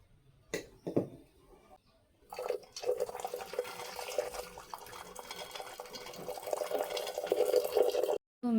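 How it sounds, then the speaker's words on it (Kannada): Water is drained off boiled vegetables in a village kitchen, a splashing, trickling pour that runs steadily for several seconds after a few sharp knocks, moderately close and alone. "ನೀರು ಬಸಿತೀನಿ ಇವಾಗ."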